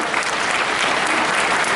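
A convention panel audience claps and cheers in a dense, continuous burst of applause filling the room, loud and steady throughout.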